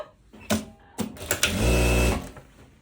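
Sewing machine stitching the side seam of a summer dress: a few short bursts followed by one sustained, steady whirring run, close and fairly loud.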